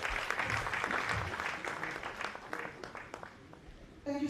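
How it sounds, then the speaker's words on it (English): An audience at a national Labor Day conference in Sierra Leone applauds a welcomed guest. The clapping is faint and distant, scattered and thinning over about four seconds, with a voice rising near the end. "Round of applause, please."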